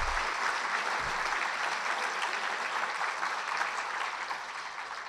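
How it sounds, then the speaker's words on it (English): Steady applause for honorees at an awards luncheon, a continuous wash of many hands clapping, moderately distant and fading slightly toward the end. "let's applaud both of our heroes"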